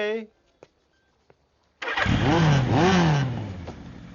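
In a Telugu film comedy scene, a motorcycle engine cranks and catches after a couple of faint clicks, then idles and revs loudly with a rising and falling tone, close by, with no talk over it.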